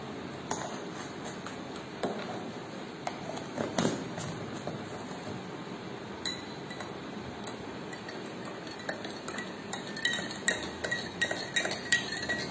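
A spoon stirs Nutrilite fiber into water in a glass, tapping the sides in a run of light, quick clinks and ticks. The taps come at an irregular rhythm over a steady soft background hiss.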